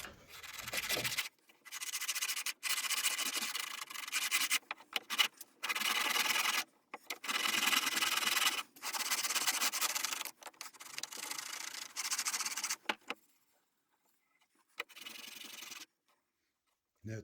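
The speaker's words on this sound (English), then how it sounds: "I've just got this self-made block thing with an engineer's file" An engineer's file held in a homemade block rubs down the sides of carved oak in repeated rasping strokes, each lasting about a second, with short pauses between them and a longer gap near the end.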